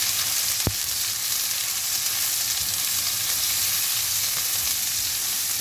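Onion, garlic and scallions frying in a pan, with a steady, dense sizzle throughout, one sharp tap of a utensil near the start, and faint stirring.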